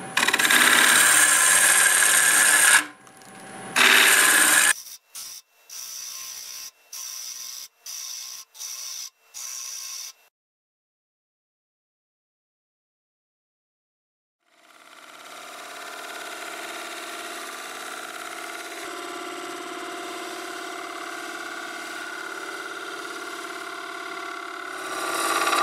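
Wood lathe turning a Spanish olive wood bowl with a 3/8 gouge: a loud, steady rasping cut, then a run of short scraping passes, a long pause and a sustained smoother whirring cut to the end.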